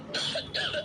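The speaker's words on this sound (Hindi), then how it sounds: "मुझे खांसी आने लगी" Two short, close coughing bursts from a young woman in a Hindi drama scene, separated by a brief pause, loud and alone with no talk over them.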